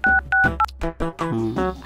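Telephone keypad tones beep as a number is dialed: a quick run of short, loud dual-tone presses at the start, followed by a tonal, voice-like passage.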